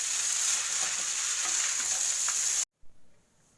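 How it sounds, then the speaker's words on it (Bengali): Chow mein with egg sizzles steadily in a hot pan while being stirred, a dense close frying hiss that cuts off abruptly near the end, followed by a brief faint scrape and quiet. "একটু নেড়ে ভালো করে নেড়ে মিশিয়ে নিই।"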